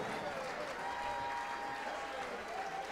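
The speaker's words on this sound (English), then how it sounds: "how about a big round of applause" Audience applause at the Cicada Club after an orchestra performance, a steady wash of clapping from a crowd, heard faintly and distant.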